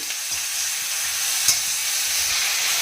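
Potatoes sizzle steadily in plenty of oil for a pepper potato fry, a constant bright hiss with one brief stirring clack in the middle.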